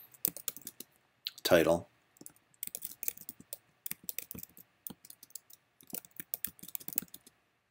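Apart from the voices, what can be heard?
typing on a computer keyboard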